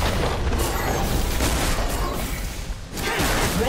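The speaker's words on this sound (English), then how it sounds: "Red Team's turret has been destroyed." A turret in League of Legends is destroyed, heard as a dense, loud crumbling blast with mechanical clatter and rumbling debris, staying busy and sustained throughout without speech.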